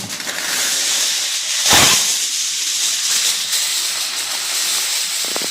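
Masala nutmeg (jathika) chicken set on hot coals sizzles with a steady, loud hiss, flaring into a brief stronger burst partway through before settling back to a constant crackling fizz.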